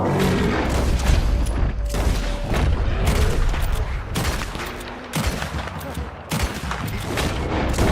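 Gunfire in a Red Dead Redemption 2 mission: repeated loud volleys of shots and booms in bursts throughout, layered with game effects and dense action noise.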